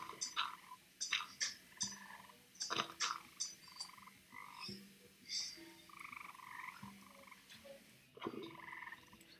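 Frogs croak in Minecraft with an animal mod, repeated short croaks in an irregular rhythm, moderately close and fairly faint, with no talking.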